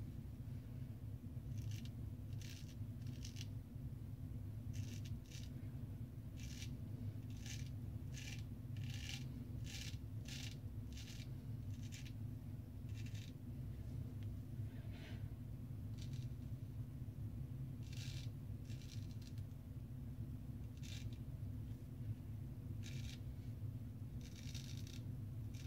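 Ralf Aust straight razor shaving, with rhythmic raspy strokes of the blade over whiskers in repeated bursts above a steady low background hum.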